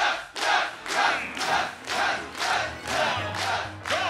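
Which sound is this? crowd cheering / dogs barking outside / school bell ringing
crowd cheering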